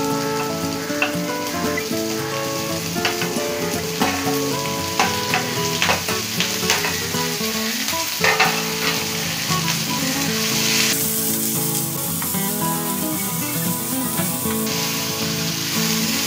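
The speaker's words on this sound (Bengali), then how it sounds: "এক সাইড করে আমার পেঁয়াজ কুচি আর কাঁচামরিচ ফালি আমি একটু হালকা হালকা ভেজে নেব।" Chopped onion and sliced green chili sizzle in a hot pan beside pieces of fried sweet pumpkin, a steady bright crackle broken by repeated stirring scrapes, close and continuous with no talk.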